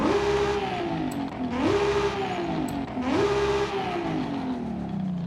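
A Toyota Supra engine in Forza Horizon 5, fitted with race cams and a single turbo, revs repeatedly, its pitch climbing through each gear and dropping at the shifts in a steady rhythm, loud and close.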